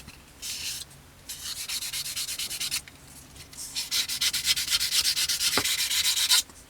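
A sanding sponge rubs a plastic part of a Tamiya 1/48 scale Beaufighter model aircraft in close, rhythmic bursts of quick back-and-forth strokes with short pauses between them.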